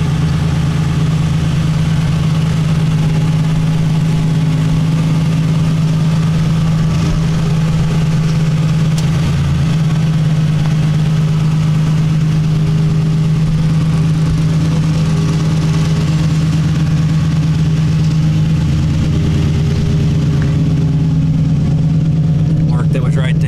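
A Ford Ranger's engine idles continuously with a steady low hum and constant drone, close and loud, with no change in pitch throughout.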